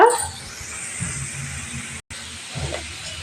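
Prawns frying in a pan with salt and onion give off a steady, close sizzling hiss that holds throughout, broken by one brief silent gap, with faint clinks underneath.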